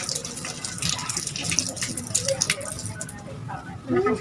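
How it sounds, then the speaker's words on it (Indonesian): Tap water runs steadily into a sink as hands are rinsed, a close, continuous splashing hiss with small fluctuations, while a person speaks over it. "Yang pertama adalah hidupkan keran dan basahi tangan kamu dengan air bersih."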